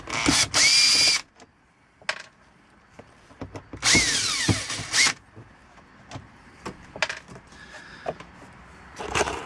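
A power drill works on the instrument cluster of a 2003 Honda Element dashboard, with two loud bursts of whirring, one near the start and one near the middle, and quieter clicks and handling noises in between.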